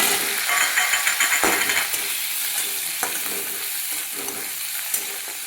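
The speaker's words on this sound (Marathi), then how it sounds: "चांगलं खरपूस तळून घेऊया." Chickpea usal fries in oil in a pan with fresh coriander, a steady crackling sizzle with scraping stirs and light clinks of the spoon against the pan, close and continuous.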